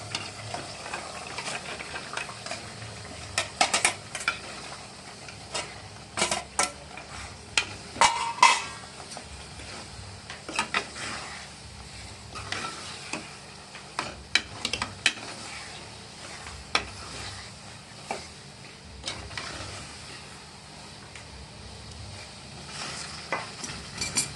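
A spoon scraping through undhiyu vegetables and masala in a pot, giving intermittent clinks and knocks over a low steady background. No one speaks.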